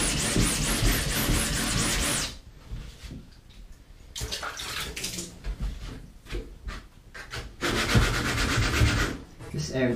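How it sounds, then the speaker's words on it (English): Hand sanding of a 3D printed Buster Sword, with sandpaper rubbing in rapid back-and-forth strokes, loud bursts separated by brief pauses, close up. "This area doesn't need too much sanding."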